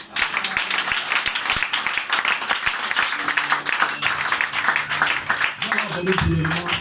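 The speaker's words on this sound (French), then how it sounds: "Donne une acclamation à Dieu ce matin" A church congregation applauds and cheers in worship during a Sunday morning service, sustained clapping from many hands throughout, with a voice speaking over it.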